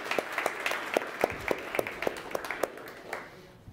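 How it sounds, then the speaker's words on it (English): A conference audience applauds the organizers of an event, a modest round of scattered clapping with distinct individual claps in a steady patter that fades out after a few seconds. "I would really like to take the opportunity and raise a bit of the applause for the organizers here for such a great event."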